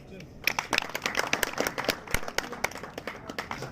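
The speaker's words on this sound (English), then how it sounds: "A big round of applause for him for this position." Students and audience at a school prize distribution ceremony clapping for an award winner, a short burst of moderately loud applause in a hall, scattered sharp claps fairly close.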